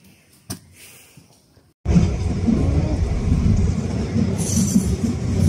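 An unlit train rides on rails, its steady loud rumble and wheel clatter starting abruptly after a quiet moment and holding close and continuous, with a brief higher squeal near the end.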